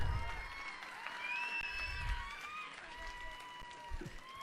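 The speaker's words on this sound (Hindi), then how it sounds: "तालियों के साथ बताओ।" A crowd at a political rally claps and applauds, dense clapping with a distant cheering texture and voices mixed in, fairly faint.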